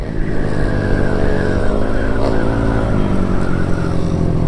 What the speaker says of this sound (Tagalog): lakas ng raider talaga